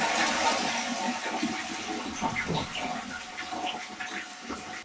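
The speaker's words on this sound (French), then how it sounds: "On tire une chasse d'eau, on reste appuyé pour vraiment vider la citerne complètement." A toilet cistern is flushed with the lever held down to drain it fully before the flush mechanism is replaced; water rushes steadily and close for the whole stretch, with gurgling swirls throughout.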